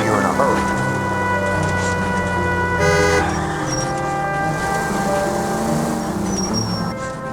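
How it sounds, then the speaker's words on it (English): Police car siren wailing in the L.A. Noire video game, a steady rising and falling tone held loud and close throughout, layered over engine hum and street traffic with a brief shift midway. "Siren."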